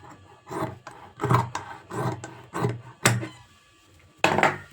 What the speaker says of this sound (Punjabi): ਹੁਣ ਆਪਾਂ ਇਧਰੋਂ ਜਿੰਨਾ ਵੀ ਬਾਦੂ ਫੈਬਰਿਕ ਹੈ ਇਹਨੂੰ ਕੱਟ ਕਰਾਂਗੇ